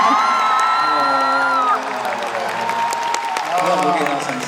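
A concert crowd cheers and claps for a guest singer, loud whoops and applause filling the hall while a voice speaks over the noise.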